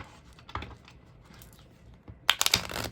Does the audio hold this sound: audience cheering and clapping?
no